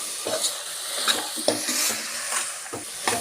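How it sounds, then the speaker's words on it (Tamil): Soaked dried peas sauté in a pan for pea biryani, giving a soft sizzle broken by repeated scraping stir strokes and light clinks of a utensil against the pan, close by. "இது கொஞ்சம் நல்லா வதங்கி வரட்டும்"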